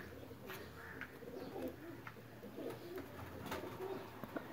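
A teddy pigeon coos softly and low amid faint background noise, with brief chirps and clicks scattered through, fairly distant and quiet.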